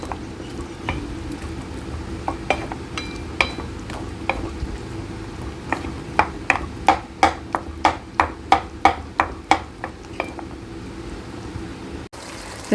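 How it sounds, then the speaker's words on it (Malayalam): A spoon scrapes and knocks in a pan while chicken karahi with pepper powder is stirred, the sharp clicks spaced out at first and then coming quickly in a steady run, close by over a low background hum. "എന്നിട്ട് നല്ലപോലെ ഒന്ന് ഇളക്കി കൊടുക്കുക."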